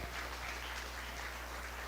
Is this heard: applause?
yes